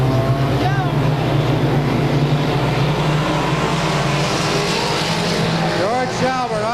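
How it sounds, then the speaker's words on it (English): Race cars at a weekly short-track event at Claremont Speedway roar past in a loud, continuous engine drone with rising and falling pitch sweeps, heard under a commentator's excited play-by-play. "Kirby Hazen protects the inside groove, going through in the inside"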